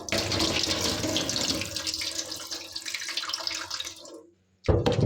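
Water poured into homemade butter to wash it while making ghee, a steady running and splashing stream that cuts off near the end, followed by a brief clatter.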